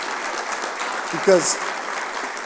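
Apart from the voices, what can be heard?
audience applause for the band and chorus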